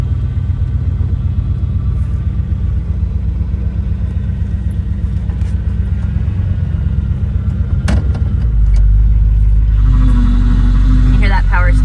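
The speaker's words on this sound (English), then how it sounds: "You hear that power steering? Just terrible." A 1959 Cadillac engine idling with a badly noisy power steering pump, giving a loud continuous low rumble close by that swells louder near the end, with someone talking over it.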